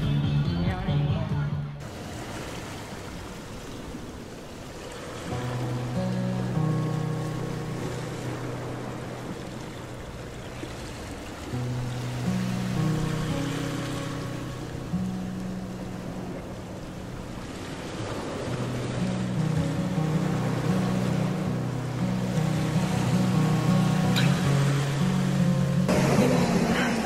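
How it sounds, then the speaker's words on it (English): Surf rolling onto Baitam beach on Cat Ba Island, steady wash of waves with wind buffeting the microphone and a low motor drone from passing boats, continuous and fairly close throughout. "I'm at the Baitam beach."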